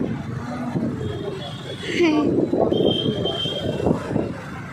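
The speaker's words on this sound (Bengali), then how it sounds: "এই দেখো ট্রেন এটা এই ট্রেন কেন নেবে ও ইন্ডিয়া আর্মির ট্রেন" An Indian Army train rolls past a roadside in Tinsukia, with a loud, steady rumble and faint wheel squeal that swell midway. People talk nearby over wind buffeting the microphone.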